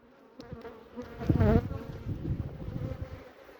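Honeybees buzzing close around a hive packed with honey, a dense droning hum that swells for a moment and then settles into a steady, slightly fluctuating buzz.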